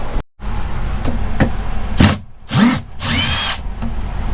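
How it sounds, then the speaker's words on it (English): A cordless power drill works on screws in the exterior wall of an RV motorhome, giving several short whirring bursts of rising and falling pitch, close and loud, with brief pauses between them and no talking. "I'm gonna take out these screws here and get these rod deals out of here."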